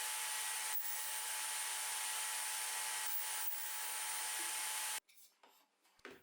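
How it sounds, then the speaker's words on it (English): Steady, loud rasping of a saw cutting a piece of PVC pipe, a continuous grinding roar with brief dips, stopping abruptly near the end and followed by faint scraping and handling. "I'm also going to cut a piece of PVC pipe to use as a dust hose."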